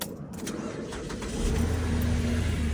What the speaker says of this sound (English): we come to the car and see if we can start it up